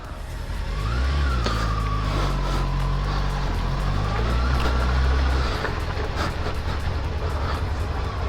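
Honda CBF600S motorcycle pulling away, its engine rising in pitch as it revs up and accelerates nearby, holding a steady loud drone for several seconds before easing off.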